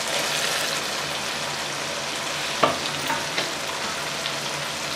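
Tomatoes frying in a pan for an okra (bhindi) fry, a steady, even sizzle filling the whole stretch with a couple of small stirring knocks, close and fairly loud, no voices.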